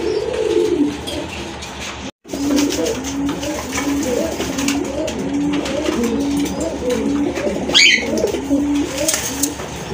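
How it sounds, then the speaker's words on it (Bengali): A pair of white-breasted Rajgolla pigeons coo in a steady, low, rolling series of throaty calls, close by, with a brief cut and a faint sharper chirp later. "একদম বুক সাদা এক জোড়া রাজগোল্লা কবুতর"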